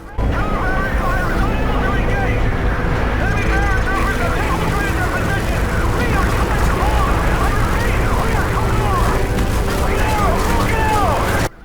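Continuous air raid siren wailing in a Modern Warfare 2 battle scene, loud and steady throughout under dense layered combat noise, with rising and falling siren tones.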